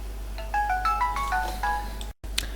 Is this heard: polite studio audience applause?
no